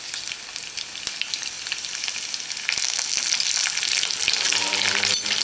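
Garlic and curry leaves sizzle with cumin seeds in hot oil, a bright steady crackle that swells louder partway through as the pan is stirred, close and without talking.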